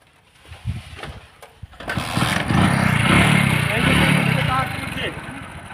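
A motorcycle engine coughs a few times, then catches and settles into a loud, steady idle close by, with people talking over it.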